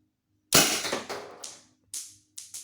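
A Tippmann Cronus paintball marker fires five sharp, loud shots in a quick irregular sequence, each a crisp pop with a short hiss-like decay, close by in a quiet space.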